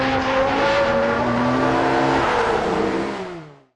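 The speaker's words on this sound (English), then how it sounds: "a wide cinematic shot of the car racing along the track" A Formula One race car roars loudly along a track, its engine note sustained and high, sliding slightly downward before it fades out at the end.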